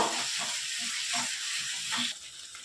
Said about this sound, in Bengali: লেবুর পাতাগুলো দিয়ে আমি মশলাটা ভালো করে কষিয়ে নেব